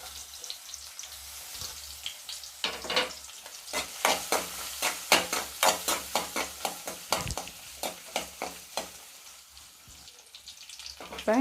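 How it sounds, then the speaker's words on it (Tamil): Garlic and other ingredients sautéing in sesame oil for a drumstick-leaf dal, a soft sizzle beneath a run of rhythmic, sharp spoon scrapes and taps against the pan, close and alone without talk. "இப்போ எல்லாமே சேர்ந்து அந்த நல்லெண்ணெயோட நல்லா வதங்கிருச்சு."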